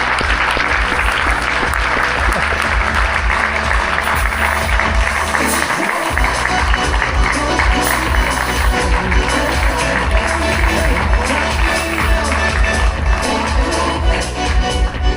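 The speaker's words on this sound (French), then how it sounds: "On les applaudir." A large crowd claps loudly and continuously to welcome a junior cycling team being presented, a dense, sustained roar of applause with a thud partway through.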